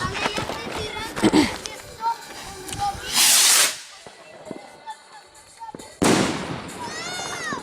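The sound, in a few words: large rocket firework launched on New Year's Eve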